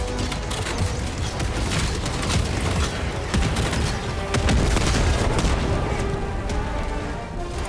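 Mortar strikes in the video game Helldivers 2 fall as a steady barrage of dense, rumbling booms and crackling blasts, loud and continuous across the whole stretch with no talk.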